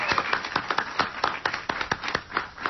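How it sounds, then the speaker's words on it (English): Audience clapping at a 2009 event, a crowd applauding in quick irregular claps at moderate level, fairly close, with no speech over it. "Give Keith a big hand"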